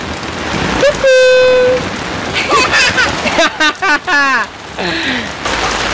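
Steady rain hisses down in a village home while voices talk and call out loudly over it.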